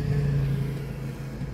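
A car engine hums steadily at low pitch while driving on a summer day, with constant road rumble and no obvious revving or speech.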